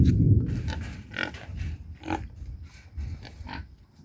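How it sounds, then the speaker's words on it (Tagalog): Several black pigs grunting close by at an outdoor resort, a burst of low snorts at the start followed by scattered short grunts, with no talking. "Kulay itim na baboy."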